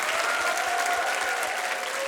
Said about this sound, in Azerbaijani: Amma onların əziyyətini də gəlin ürəkdən alqışlayaq uşaqlar